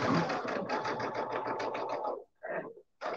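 Sewing machine stitching minky fabric in a loud, close whirring run, stopping briefly and then restarting in short bursts.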